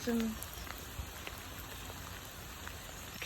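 Pouring rain in Hawth Woods, a soft steady patter of drops on leaves and ground, fairly faint and continuous, with a brief voice at the start.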